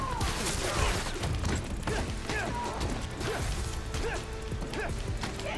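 Dense, busy effects from the video game Spider-Man: Miles Morales: continuous crashing, popping particle explosion bursts and mechanical clatter layered into a loud, chaotic wash.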